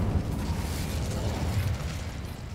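An Incendio fire spell in Hogwarts Legacy roars as a loud, sustained burst of flame and rumbling crackle that fills the whole stretch at steady volume, with a faint voice underneath.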